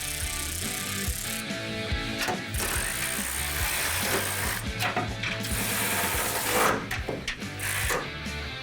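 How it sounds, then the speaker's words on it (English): A ratchet wrench clicks repeatedly as the leaf spring shackle bolts on a 1970 Dodge Challenger are tightened, close and busy, with bursts of rapid pawl clatter broken by short pauses and occasional metallic knocks. "go ahead and tighten down your shackles and your leaf spring purchase"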